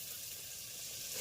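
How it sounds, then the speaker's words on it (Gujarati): Vegetable curry tempering sizzles in hot oil on a village stove over a high flame, a steady close hiss that swells slightly toward the end, with no talking. "અમારું શાક અહીંયા વઘારાઈ ગયું છે"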